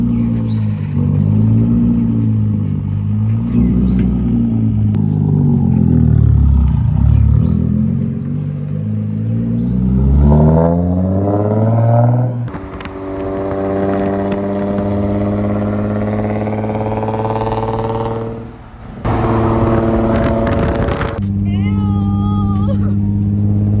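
Infiniti G35 engine fitted with test pipes idling and blipping, a loud, raspy exhaust drone that rises and falls in pitch with a few short revs, with people talking over it.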